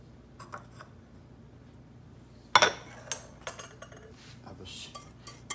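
Utensils clink and scrape against a bowl while mixing sugar and salt for butter naan dough, in a few irregular taps and stirs, fairly quiet and close.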